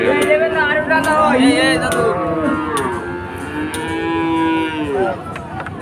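Many cattle moo at the busy Chuknagar cattle market, overlapping long drawn-out calls rising and falling close by, with faint crowd murmur beneath.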